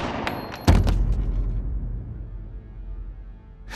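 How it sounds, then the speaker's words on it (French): A sharp gunshot effect in a narrated French true-crime radio story cracks loudly, with lighter shot-like bursts close around it, then a long booming decay into quiet. "Et elle tire 3 coups de feu"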